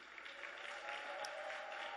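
Church congregation clapping to welcome a missionary at a worship service, a faint, even wash of hands that holds steady throughout.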